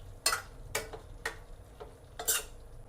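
Masala being mixed into a brinjal curry in a pan, heard as four distinct scraping strokes of a spoon against the pan, evenly spaced and fairly close, over a faint background hiss.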